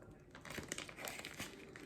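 Brief crinkling and crackling of a plastic frozen veggie ramen package being peeled at a glued top seal, close and fairly quiet.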